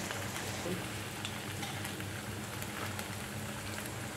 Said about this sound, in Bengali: এবার অল্প তেলে ভেজে নেব।